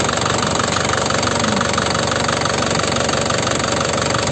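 Engine of a 2013 Grand Touring car running close up, a loud continuous mechanical drone with a fast ticking pulse, steady throughout with no voices.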